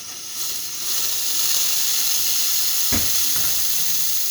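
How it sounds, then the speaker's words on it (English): Steam wand of a La Pavoni Stradavari espresso machine releasing a strong, steady hiss that swells in and holds, close and loud, with a brief low thump partway through. "Let's go ahead and test the steam."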